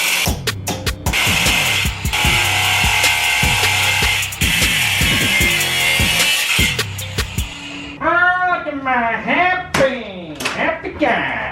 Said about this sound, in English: think I'm also gonna do is cut this weld off right here that holds that bracket.